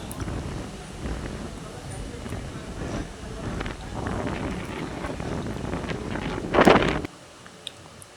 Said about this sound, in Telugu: విపరీతమైన గాలి అయితే వేస్తుంది